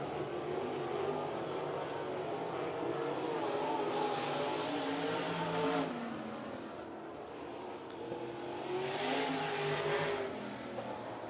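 NARC 305 sprint cars racing at Kings Speedway, engines roaring and swelling as cars rocket down the back straightaway, rising and fading passes at moderate distance.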